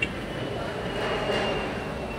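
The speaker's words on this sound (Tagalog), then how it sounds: "Sabi, may ingay na ng LRT" LRT train rumbling overhead above a street market in Baclaran, a low continuous roar that swells slightly midway, heard from below amid the market's background noise.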